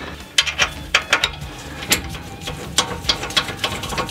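Ratchet tightening new bolts on Tesla suspension parts during tie-rod and hub carrier replacement, a series of close, crisp clicking bursts in short uneven groups, loud and alone.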